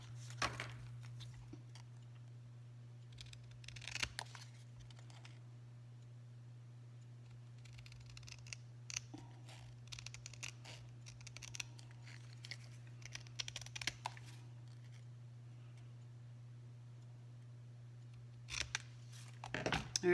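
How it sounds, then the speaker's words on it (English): Scissors cutting glitter paper at a crafting table: scattered quiet snips and crisp paper rustles recur over about twenty seconds, set against a steady low electrical hum, with no talking. "Don't use your ribbon scissors to cut this out because this is glitter paper and it will dull"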